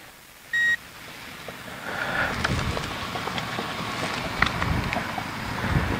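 Outdoor wind buffeting a microphone builds into a steady low rush after a short electronic beep, with faint rustling over the top and no talk.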